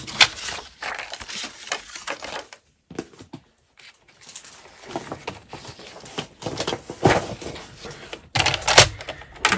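Paper being cut along a line with scissors for a fold-out craft page, giving close, crisp snipping and rustling in irregular bursts with a brief pause partway through.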